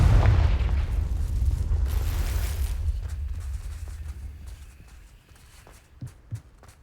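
A Confringo fire spell in the video game Hogwarts Legacy bursts with a loud, deep blast that rumbles and slowly fades over several seconds, followed by a couple of small, soft thuds.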